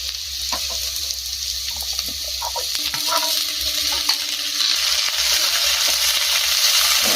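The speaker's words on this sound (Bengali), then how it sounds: "গাজর দিয়ে দেবো, নেড়ে এগুলো ভাজা ভাজা করে নেবো। সবজিটা ভেজে নিয়েছি, এবার এই পাস্তাটা দেবো।" Vegetables with carrots and pasta stir-fried in a pan give a steady close sizzle, broken by scraping and clattering stirring strokes throughout.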